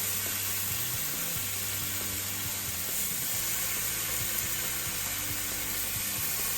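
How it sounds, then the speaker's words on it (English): Bacon fries on a very hot griddle, giving a dense, steady sizzle with crackling throughout, close and unbroken. "hear that bacon sizzle?"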